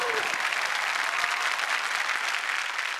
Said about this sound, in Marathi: जोरदार टाळ्या थरथराट यांच्यासाठी